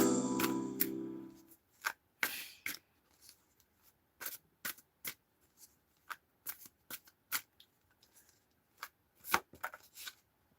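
Tarot cards get a quick riffle shuffle first, followed by a run of sharp separate flicks and taps as the cards are handled, close and quiet, with no talking.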